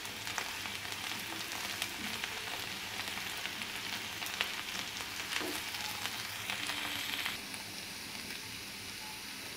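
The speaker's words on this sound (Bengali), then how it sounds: "চিকেনগুলো দিয়ে দিয়েছি, এখন এটা ভালোভাবে নেড়ে চেড়ে দেব।" Chicken and okra sizzle and crackle in a frying pan with a steady, soft hiss, while occasional scraping from stirring rises briefly above the frying; no one speaks.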